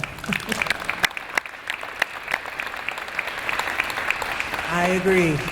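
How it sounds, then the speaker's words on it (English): Applause from an audience at a community college Veterans Day ceremony, a mix of individual claps, with a voice rising over the end. "I think applause is appropriate at this time"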